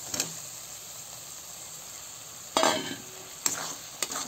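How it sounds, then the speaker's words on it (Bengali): Fried potatoes being sautéed with spices for a wallago fish curry: a quiet low sizzle broken by a few scraping stirs of a spoon in the pan, close by. "আলু দিয়ে আর একটু কষাই নেবো"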